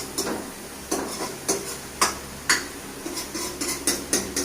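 Food frying in a pan with a sharp, pungent spice, stirred in a repeated rhythm of metal scrapes and clinks over a steady sizzle, close and fairly loud, no talking.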